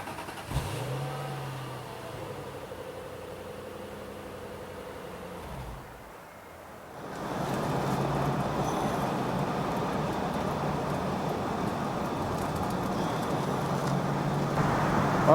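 A 2002 Ford Thunderbird Roadster sits quietly, then its engine fires and settles into a steady, close exhaust rumble that holds at an even idle without revving.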